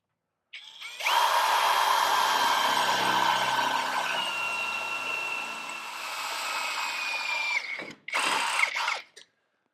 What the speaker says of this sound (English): Now we can drill it from that side and it'll be the same center